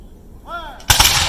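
A volley of musket fire from troops at historical Fort Osage, one loud sharp blast that rings out near and fills the end of the clip, preceded by a brief shouted command.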